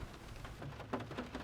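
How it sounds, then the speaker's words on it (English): Soft rain falls steadily in a green cemetery in Asheville, a faint, even patter of drops on the ground and leaves with no voices over it. "it's raining right now, so folks can hear some of the rain falling"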